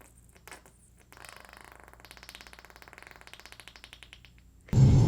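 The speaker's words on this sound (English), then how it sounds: "That sounds like a fart." A makeup product makes a wet, sputtering squelch with a rapid buzzing rhythm, like a fart, playing quietly for several seconds before a loud burst of noise.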